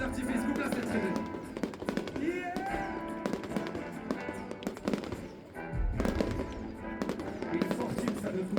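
Fireworks burst repeatedly at a rose festival, a dense series of crackling pops and booms at moderate distance, with voices and crowd chatter running underneath.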